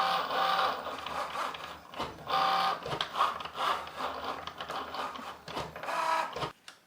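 A Cricut Joy machine drawing labels with a marker, a close continuous whirring motor with repeated back-and-forth strokes and short pauses, running alone without talk.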